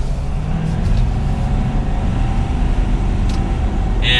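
A 2022 Ford F250 Super Duty Platinum Tremor pickup pulls away under light throttle, its engine a loud, close, steady rumble with a faint whine building through the cab, no voices present.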